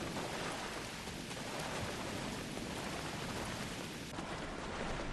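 Steady, dense rain falls on the planet Ryza in the video game Star Trek Online, a continuous even hiss with no pauses and no voices.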